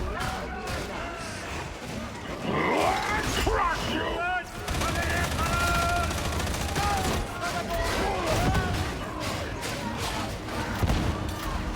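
Rapid automatic gunfire from an auto-gun in the video game Darktide, dense sustained bursts with explosions mixed in, loud and continuous, while someone talks over the action.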